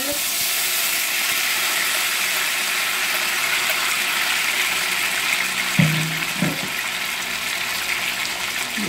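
Tomato and onion frying in hot oil, a steady broadband sizzle holding close and loud throughout, with a couple of brief clunks of a pan or utensil near the end.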